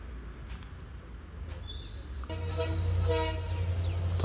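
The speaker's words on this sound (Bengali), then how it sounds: "তো ফাইনালি ট্রেন এসে গেল।" A train nears a railway level crossing, with a quiet outdoor hum at first, then a loud low rumble of the arriving train and a sustained horn blast building up near.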